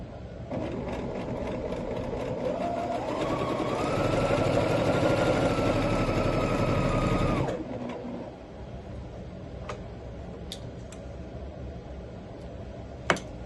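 A sewing machine stitches a snowballed corner on a giant posy quilt block, running in a steady rapid hum that speeds up and holds for several seconds before stopping, followed by quiet fabric handling and small clicks.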